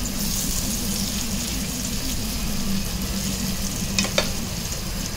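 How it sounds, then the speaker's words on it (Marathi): Alu vadi shallow-frying on both sides in a little oil over medium-high gas, a steady dense sizzle with a couple of quick clinks near the end, no talk. "थोड्या तेलामध्ये आपण दोन्ही बाजूने खरपूस मीडियम टू हाय गॅसवरती फ्राय करून घेणार आहोत"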